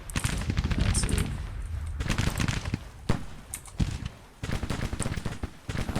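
Civil War battle video game combat: dense volleys of musket gunfire crackle in rapid bursts, punctuated by heavier cannon booms, loud and nearly continuous with brief lulls.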